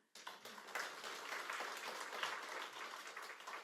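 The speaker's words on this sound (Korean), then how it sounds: "우리 하나님께 영광의 박수." A church congregation at a Korean Sunday service claps steadily together after a sharp onset, a full, even wash of applause lasting several seconds, heard at a moderate distance.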